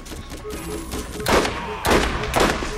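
Gunfire bursts from the Borderlands shooter game, with several loud broadband blasts around the middle and end over a steady backdrop of game noise, with faint voices underneath.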